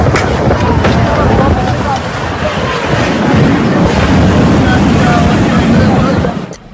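Strong storm gusts sweep through Jeddah, a loud, steady roar of wind buffeting the microphone for several seconds before cutting off abruptly at the end.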